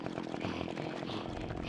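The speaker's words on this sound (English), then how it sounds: "we're gonna chainsaw some people because they chainsawed me first" A chainsaw in the Conker's Bad Fur Day video game buzzes continuously with a rough, steady motor drone, fairly quiet and unbroken throughout the short stretch, with no talking.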